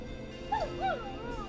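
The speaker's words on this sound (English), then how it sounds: "Is that a neighbor's dog?" A neighbor's dog in the Killer Frequency video game gives two quick high yips or whimpering barks, faint and distant against a low steady background hum.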